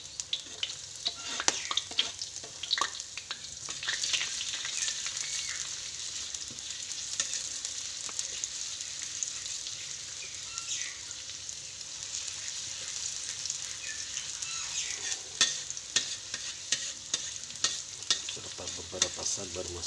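Garlic sizzles steadily in hot oil in a pan, with a spatula scraping and stirring through it in irregular clatters, the frying hiss continuous and fairly close, while papaya leaves are being stir-fried.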